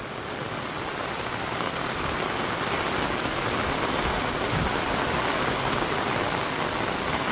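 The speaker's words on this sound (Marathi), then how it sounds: "पाऊस पण खूप आलाय" Heavy rain pouring outdoors in a Konkan village, a dense, unbroken hiss of downpour that stays loud and even throughout, with no voices.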